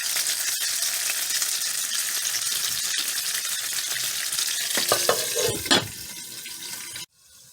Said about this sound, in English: I placed my chicken breast in the pan